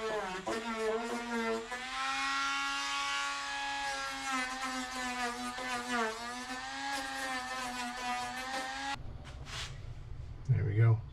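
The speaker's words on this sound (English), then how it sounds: "I'm gonna grind all this down, get these square, smooth all this out with the Dremel in the wheel" A Dremel rotary tool with a grinding wheel squares and smooths a fiberglass boat cowling. It gives a steady, close, high-pitched whine that wavers in pitch for about nine seconds, then cuts out to quieter handling noises.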